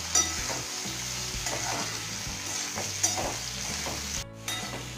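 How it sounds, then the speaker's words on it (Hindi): Raw banana pieces roast in a pan over a low gas flame, giving a soft, even sizzle with repeated scraping and stirring strokes and a faint tonal background, and no talking. "अब इसमें हम केला को डाल देते हैं और गैस का फ्लेम को लो करके केला को एक दो मिनट तक इसी तरह से भून लेते हैं।"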